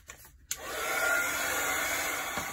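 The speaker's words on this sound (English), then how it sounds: "I'm gonna give it a good dry" A hair dryer blows steadily on watercolor brush marker artwork in a journal, starting after a brief click and holding a loud, even whoosh to the end.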